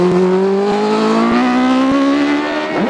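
A Works Hornet Hayabusa hillclimb car pulls away from the start line, its engine note rising steadily in pitch as it accelerates hard, loud and close, with no talk over it.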